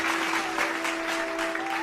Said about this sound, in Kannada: ಸ್ಫೂರ್ತಿದಾಯಕ ಚಪ್ಪಾಳೆ ಬರಲಿ